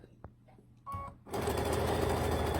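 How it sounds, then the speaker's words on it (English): A sewing machine stitching a fabric strip set for a quilt block starts after a few soft handling clicks and a short whir, then runs in a steady, fast, close mechanical hum to the end. "I'm just going to sew the entire strip set"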